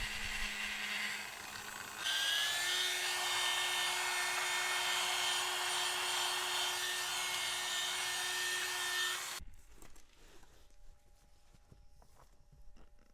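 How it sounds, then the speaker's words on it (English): A machine polisher buffs the edge of fresh lacquer on a car paint spot repair, whining steadily and loudly up close for several seconds with a shift in pitch near the start, then cutting off to quieter handling noise. "then I buff the edge in"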